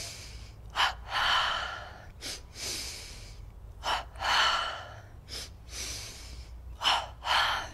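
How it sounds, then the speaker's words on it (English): A double breathing exercise from Yogananda's energization routine: forceful paired inhales and exhales through the nose and mouth, repeated in a steady rhythm of short-then-long breaths, close and clear over faint low background hum, with no speech. "Double breathing, palms touching, tensing the body upward in a wave, and relaxing back down."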